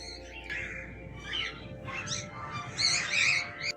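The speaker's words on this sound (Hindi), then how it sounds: "और ये है कोकटेल पक्षियों का समूह। उनकी ये है प्यारी सी आवाज़।" Flock of cockatiels at the old Jaipur zoo giving repeated high chirping calls in overlapping bursts, moderately loud over a constant low hum of background noise.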